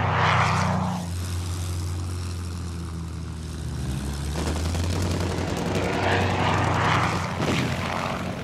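WWII fighter planes in a Battle of Britain air battle drone with steady propeller engine roar, the pitch shifting as aircraft pass, while bursts of machine-gun fire crackle through the mix.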